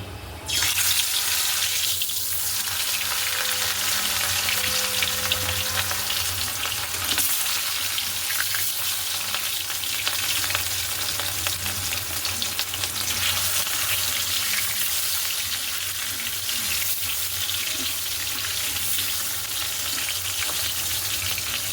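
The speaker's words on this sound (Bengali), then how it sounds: "এই যে মাছগুলো নুন হলুদ মাখিয়ে নিয়েছি চলো এক এক করে দিয়ে দিই" Fish coated in salt and turmeric frying in a wok gives a loud, steady sizzle that fills the whole stretch without any talking.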